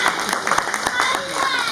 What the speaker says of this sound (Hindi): जोरदार तालियों से इनका स्वागत किया जाए क्षमा जी का।